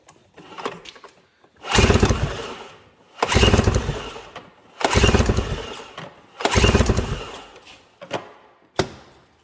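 Engine on a 700-class machine revved hard toward top speed in four long, loud wide-open bursts, each winding up and holding before cutting off, with brief idle gaps between and a short final blip.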